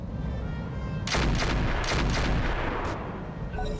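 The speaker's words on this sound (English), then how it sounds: "Go forth, turrets, and cause damage." Defensive turrets fire on enemy mechs in the BattleTech video game: loud booming artillery-like shots erupt after a quiet second and continue in a heavy cluster, with no talk.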